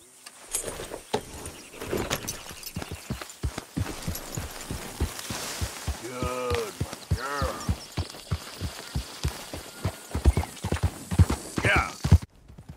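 Hooves of a silver dapple Missouri fox trotter in Red Dead Redemption 2 clop in a steady, even rhythm, close and distinct, with a brief whinny partway through and faint background ambience.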